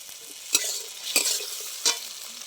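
Chopped tomatoes frying with onions in a pan, a soft continuous sizzle broken by three sharp scraping stirs of a spatula, close and alone.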